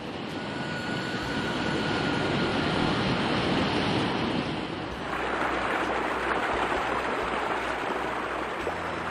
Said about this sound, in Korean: 장쾌한 폭포소리와 담소들로 흘러내리는 맑은 물소리는